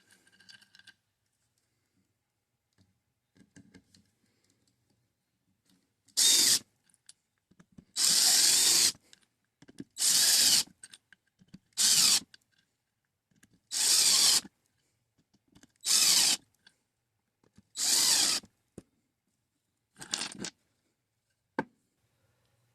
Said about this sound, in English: Drills allow you to complete these repetitive tasks faster and less strain on your body.